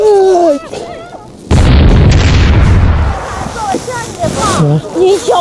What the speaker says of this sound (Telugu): ఈ బాంబులు చూడండి, లక్ష్మీ బాంబులు అంటారు కదా